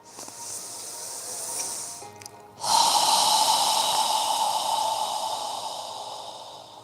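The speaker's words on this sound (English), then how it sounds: "exhale slowly through your mouth. Imagine that you're fogging a mirror with your breath as you exhale" Slow, steady exhale through the mouth during yoga breathing, a soft airy hiss close up that starts, briefly pauses, then swells strongly and fades gradually over several seconds, with no talking.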